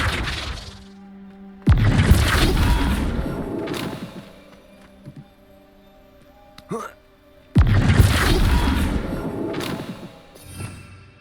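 Flipendo spell casts in Hogwarts Legacy, two loud crashing thumps with heavy impacts, separated by quieter clatter and short knocks in between.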